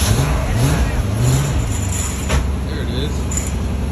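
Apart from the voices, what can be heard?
car engine cold start after sitting a month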